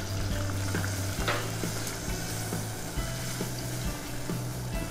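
Steady sizzling of food frying in a pan with olive oil over lowered heat, a continuous close hiss with occasional soft clinks and scrapes of stirring, no voices.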